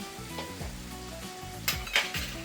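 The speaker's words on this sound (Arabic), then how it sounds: "وغادي نشحروا خيزو ديالنا" Carrots sautéing in a pan seasoned with garlic powder and salt, giving a steady close sizzle and crackle with a few louder spits of oil and light stirring sounds.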